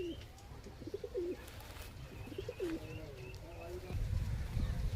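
Pigeons in a rooftop loft give soft, repeated rolling coos, fairly quiet and close, over a low background rumble with faint voices nearby.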